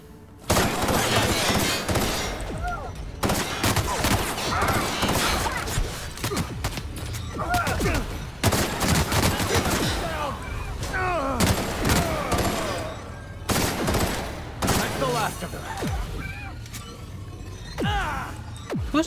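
Rapid, dense gunfire in the video game The Outer Worlds, with overlapping shots and bursts that keep going loud and close nearly throughout, with scattered thuds and mechanical clatter mixed in.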